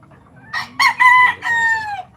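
A barako rooster, a Taiwan-bred racing fowl kept at home, crows once up close, a loud, drawn-out cock-a-doodle-doo in several rising and falling bursts over about two seconds, with faint background noise and no talk.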